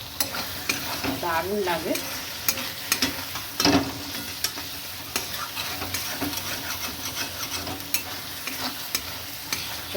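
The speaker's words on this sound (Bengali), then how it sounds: "নেড়ে নেবো চিংড়ি মাছের সাথে মিশিয়ে" Taro greens and shrimp are stirred in a sizzling frying pan, with a spatula scraping and knocking in irregular strokes over a constant fry, plus a brief spoken comment.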